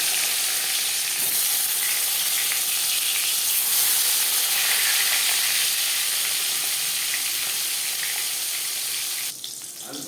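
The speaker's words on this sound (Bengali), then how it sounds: "পাঁচ চামচ রিফাইন্ড অয়েল গরম করে নিয়েছি এবার দিয়ে দেবো ম্যারিনেট করে রাখা মাছ" Marinated koi fish frying in five spoons of hot refined oil, a dense continuous loud sizzle lasting the whole stretch that drops off slightly near the end, no voices.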